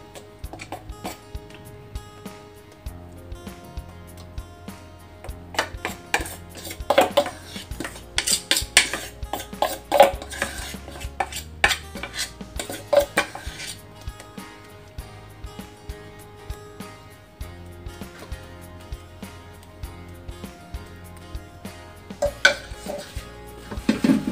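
Martabak batter being poured and spread in a teflon pan greased with a little oil, giving repeated close utensil clinks and scrapes against the pan over a faint background, with no talking.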